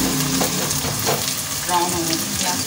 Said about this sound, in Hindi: प्याज को थोड़ी डार्क ब्राउन करके प्याज निकालनी है।